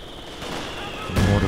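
Gunfire and a mortar barrage in Company of Heroes 2, a rattling burst followed by a louder, heavier impact near the end of a short moment.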